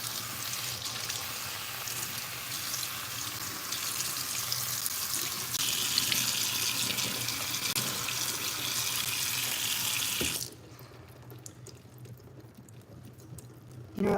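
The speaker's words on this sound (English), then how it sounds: "let me rinse that a little bit more" Water runs steadily from a tap or shower while shampoo is rinsed out of hair, a continuous hiss and splash that stops abruptly near the end, leaving quiet room sound.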